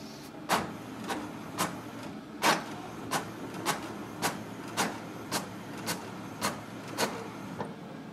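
An HP DeskJet 4132e inkjet printer prints a copy, its carriage knocking out a steady series of about fourteen sharp mechanical clacks at roughly half-second intervals over a low motor whir, close and with no voices.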